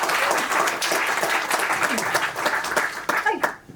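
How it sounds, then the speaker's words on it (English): Steady applause from an audience, dense clapping that holds for several seconds before thinning out and fading at the end. "Will you please give her a round of applause?"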